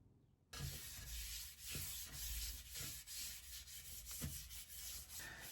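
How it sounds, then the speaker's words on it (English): Sanding a wooden handle for a 4.5-pound splitting axe: a steady close rasping rub with rhythmic back-and-forth strokes, starting abruptly after a moment of quiet and continuing with no talk. "And wait till I sand this."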